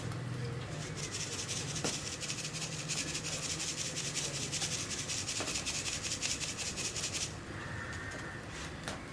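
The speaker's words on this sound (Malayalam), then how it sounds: "ഇനി ഇതൊന്ന് അരിച്ചു കൊടുക്കാം." Ground cardamom, cumin and sugar powder are sifted through a sieve, making a fast, rhythmic rubbing rasp for about seven seconds before it stops, leaving faint background noise.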